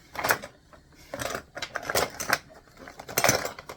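Utensils clink and rattle in a home kitchen as someone rummages for a tablespoon measuring spoon, a series of close, irregular metallic clatters and scrapes with short pauses between bursts, no talking.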